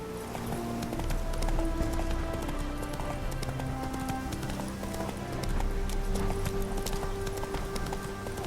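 Geralt's horse Roach gallops in The Witcher 3 with a continuous, rhythmic clip-clop of hooves. A soundtrack plays under the hoofbeats, and nobody speaks.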